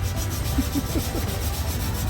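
Steady abrasive rubbing of sandpaper across hardened body filler, a continuous scratchy back-and-forth rasp, close up.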